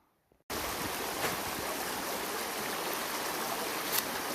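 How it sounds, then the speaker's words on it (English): Water rushes steadily in a tiny side creek in bush thick with crown fern, starting suddenly after a brief quiet moment and holding a loud, broadband, unbroken flow close by. "this is that creek, the tiny little side creek right in front of me"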